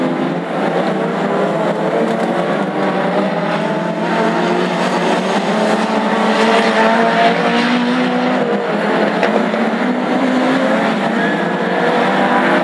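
Race car running loud without a silencer, a raw continuous engine roar at steady volume throughout, sounding close and unbroken with no pauses.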